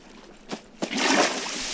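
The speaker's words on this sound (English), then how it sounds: "Oh, it's just water." Water splashing in the video game Minecraft: two short splash bursts followed by a sustained rushing, bubbling wash of water, close and fairly loud with no talking.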